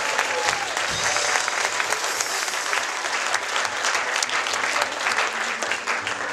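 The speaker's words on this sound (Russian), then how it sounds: "Давайте аплодисменты Господу!" Congregation at a Christmas church service applauds loudly and continuously, a dense, close wash of clapping that holds steady throughout.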